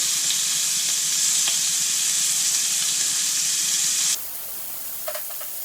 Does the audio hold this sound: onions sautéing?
yes